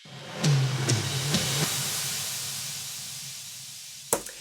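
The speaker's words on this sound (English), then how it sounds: "And then the riser, which happens a lot of times during this song" A long noisy riser sweep builds and hisses steadily across a song transition, opening with a few low tonal stabs and ending on a short sharp hit, with no voices.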